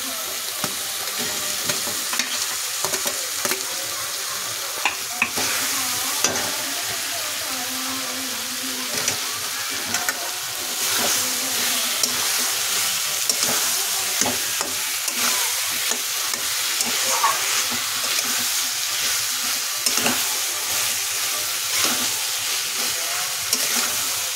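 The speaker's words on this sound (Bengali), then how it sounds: "এখন ভাজা আলুটা ছেড়ে দেবো" Fried potato pieces go into a pan of boal fish kalia and fry with a steady, fairly loud sizzle and occasional stirring clatter, hissing continuously throughout with no talk.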